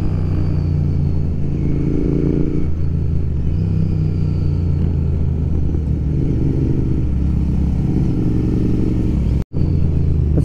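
A Royal Enfield Continental GT 650 motorcycle rides along a chilly road with a loud, continuous low engine rumble and wind roar. The pitch shifts gently as it changes speed, and a brief dropout comes near the end.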